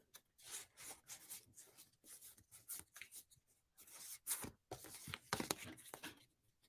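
Tarot deck being shuffled by hand, giving a run of soft papery riffles and rubbing strokes in irregular bursts, fairly close and quiet with no talking.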